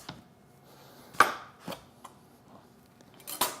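A knife splits a butternut squash in half on a cutting board, a few sharp, close chopping knocks spaced apart in an otherwise quiet kitchen.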